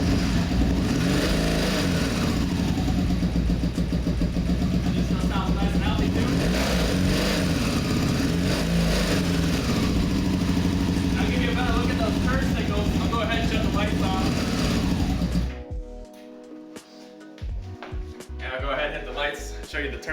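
A 1980s Honda motorcycle, about 30 years old with 19,000 miles, runs with a loud, steady engine drone close by for about fifteen seconds, then cuts off to quieter, scattered noise.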